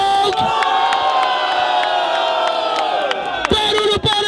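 A loud crowd roars and cheers at the final of a street rap battle in São Gonçalo. The sustained, dense cheering fills the whole stretch, with a brief dip near the end.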